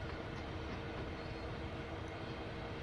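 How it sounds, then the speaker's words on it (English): A container train rolls past in Train Sim World 2 at Cumberland Terminal, a continuous, moderately loud rumble with faint rail clatter and no talk. "Wait for container train to pass."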